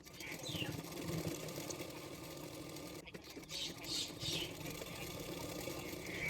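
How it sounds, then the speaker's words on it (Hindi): A sewing machine stitches the side seams of a princess-cut blouse for fitting, a fast, steady mechanical whirr with a short pause midway, and someone talks faintly over it. "उसके बाद मैं फिटिंग के लिए सिलाई कर रही हूँ।"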